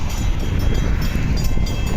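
A train passes very close, its loud, dense rumble and rolling wheel noise continuous and unbroken throughout with no voices.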